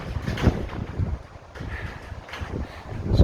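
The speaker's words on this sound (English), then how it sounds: "but the wind is definitely getting up now." Strong gusting wind outdoors buffeting the microphone, irregular low rumbling bursts of wind noise rising and falling throughout, no voices.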